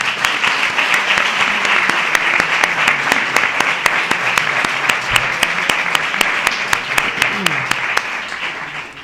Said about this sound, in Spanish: el primer fuerte aplauso quiero que sea para Sole Raya